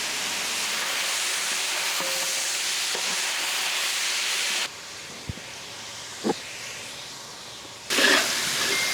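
Tomato puree goes into a pan of browning onions with curry leaves, giving a steady soft hiss and sizzle that drops quieter midway, with a few clinks of stirring.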